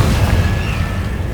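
Spell-blast explosion from the Confringo curse in the Hogwarts Legacy video game, a loud booming low-end rumble sustained across the moment with no pause.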